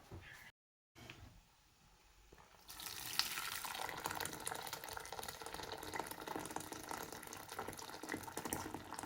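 Boiling water runs steadily and fairly loudly into a saucepan, starting after a brief quiet gap and continuing as a broad rushing pour.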